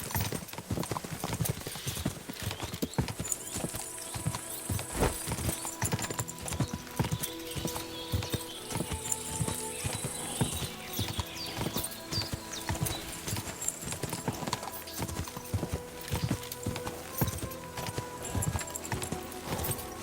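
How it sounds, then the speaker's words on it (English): Rhythmic hoofbeats clop along quickly and steadily during a horse race in the video game Kingdom Come: Deliverance II, with occasional snorts and rattling tack amid a soft ambient backdrop. "the saddle and straps clatter, hoofs of steel glisten"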